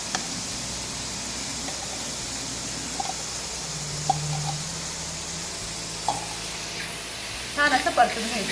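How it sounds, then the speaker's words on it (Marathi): Onion with ginger-garlic paste sautés in a pan for Puneri misal, giving a soft steady sizzle with a few stirring scrapes and clinks toward the end. "छान असं परतून घ्यायचं."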